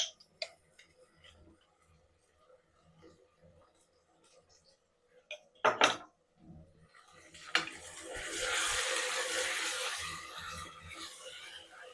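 Faint kitchen clatter and a few ticks give way to a steady, soft sizzling hiss of garlic ginger paste frying in a pan, holding for several seconds.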